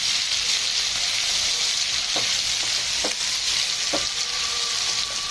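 Onion and green chilli fry with chicken liver in oil in a pan, a constant bright sizzle with several sharp clicks of a spoon against the pan scattered through it; no one speaks.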